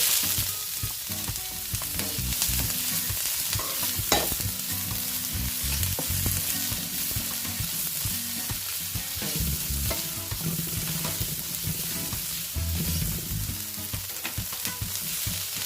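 Onion hits hot oil in a pan for palabok sauce and sizzles steadily, with stirring scrapes and crackles throughout, close and fairly loud with no voices.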